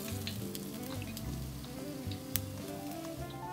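Sheepshead fish, including the head, frying in hot oil: a steady, dense sizzle and crackle fills the whole stretch, close and continuous, with one brief sharp pop.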